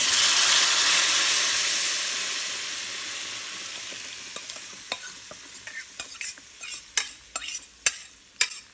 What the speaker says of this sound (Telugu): వేగాక వంకాయని వేసేసుకోండి